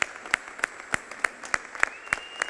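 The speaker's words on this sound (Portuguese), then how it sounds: "Então vou ficar em pé e dar uma salva de palmas para Jesus" A church congregation claps, each clap sharp and evenly spaced in a steady rhythm, close and clear over a quiet background.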